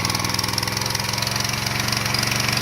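A Honda gas-powered pressure washer engine runs at mid-choke, close and loud, with a steady, rapid, pulsing chug throughout.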